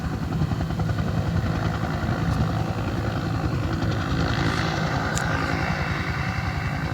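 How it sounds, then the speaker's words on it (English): A helicopter landing in a park makes a loud, continuous rotor thrum with rapid rhythmic chopping, close and dominant for the whole stretch. "I know I'm recording this helicopter"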